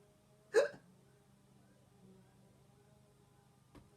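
A narrator's voice imitates a hiccup in one sharp, close, loud burst, followed by quiet and a faint click near the end.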